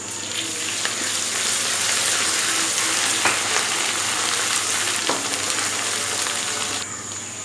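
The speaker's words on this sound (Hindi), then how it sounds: "अदरक लहसुन का पेस्ट डाल देंगे साथ ही।" Ginger garlic paste and onions sizzle and fry in a hot pan for chicken masala, a dense continuous crackling hiss with a few sharp pops and light stirring clinks, steady and close throughout.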